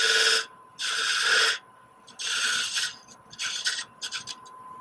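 A skew chisel cuts a bead on a wood lathe while turning a wig stand, giving bursts of bright, rasping cuts that start and stop in several separate passes with quiet gaps between.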